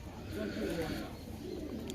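A stone-eyed Giribaz pigeon coos softly, a low rolling call heard close but faint beneath quiet murmuring voices.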